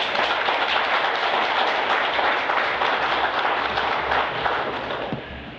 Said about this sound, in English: Don't clap too hard.